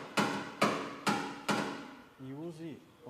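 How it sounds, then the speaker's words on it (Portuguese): Four sharp, evenly spaced rubber mallet taps on a dented car body panel during paintless dent repair, loud and close, followed by a brief spoken voice at the end. "Está batendo com o martelo de borracha."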